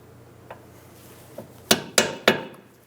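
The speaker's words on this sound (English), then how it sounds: "Using a punch, we're going to remove the extra cotter pin out of our ball joint stud." A metal punch tapping a cotter pin out of a ball joint stud on a 2007-2011 Toyota Camry: one faint tap, then three sharp ringing metallic strikes in quick succession, close and alone.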